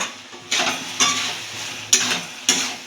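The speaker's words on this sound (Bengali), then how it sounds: "এটাকে আমরা মিক্স করে নেব।" A spoon stirs a potato and egg mixture in a pan for phulori, giving four scraping, sizzling strokes spaced roughly half a second to a second apart, close and moderately loud, with no talking.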